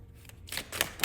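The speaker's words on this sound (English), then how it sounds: "as they just fly right on out as we are shuffling the cards" A deck of oracle or tarot cards is shuffled by hand, giving a few quick crisp riffling and slapping bursts close to the microphone, with no talk over them.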